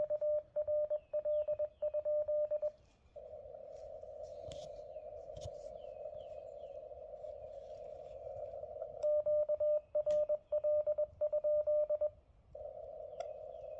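Morse code QRL inquiry sent in CW on an amateur radio transceiver near 4.0515, with short bursts of keyed beeping tone at the start and again later, and a steady unbroken tone in between.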